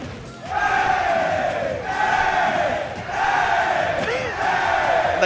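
A live crowd at a Super Smash Bros. Ultimate top-eight tournament match roars in swelling waves of cheers and shouts, loud and sustained, surging and dipping several times.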